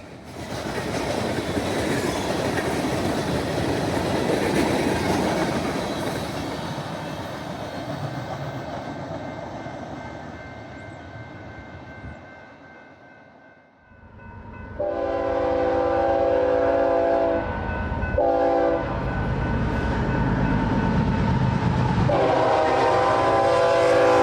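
A Ferrosur AC-44 freight locomotive rumbles past loudly, its roar fading before the horn sounds in strong repeated blasts, the last one long, over the clatter of rolling rail cars.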